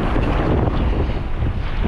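Strong gusting wind buffets the microphone outdoors on a windy shoreline during a fishing trip, a dense low roar of rushing noise with no other clear sounds.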